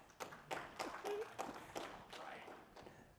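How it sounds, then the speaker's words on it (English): Light, sparse applause at a conference session, a handful of separate claps spaced out one by one, faint and thin in a quiet room. "I said a round of applause."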